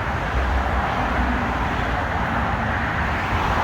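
Steady, dense roar of motorway traffic on the M56 at Sharston, continuous broadband rumble and hiss from many vehicles with no distinct gaps, heard close by the roadside and without any talk.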